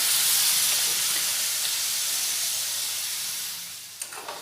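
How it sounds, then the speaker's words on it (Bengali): A little water hits hot oil frying Kashmiri chili powder and spices for ghugni, letting out a loud, steady steaming hiss that slowly fades, then a few soft stirring clicks at the end. "আর দিয়ে দেবো সামান্য জল, যাতে মশলাগুলো পুড়ে না যায়"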